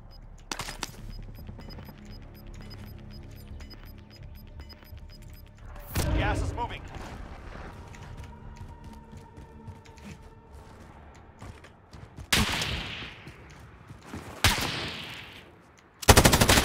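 Gunfire in the video game Warzone, with scattered sharp shots and short bursts breaking through mechanical clicks and creaks of weapon handling, several loud cracks spread across the passage.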